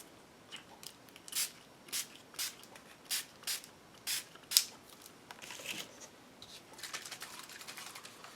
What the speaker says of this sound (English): I'm going to spray a little bit in the book.